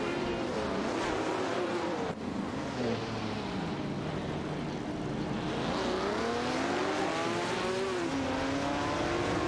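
BMW CSL 3.5 and Maserati Bora Competizione race cars in an AI-driven racing video game, engines droning and whining continuously with rising and falling pitch as cars pass and shift gears, with no voices.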